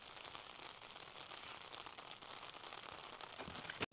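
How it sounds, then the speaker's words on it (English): Steady rain patters on a tent during a solo winter wild camping trip, a dense, even hiss that fills the whole stretch with no talk over it. "You can hear the rain over my loud talking."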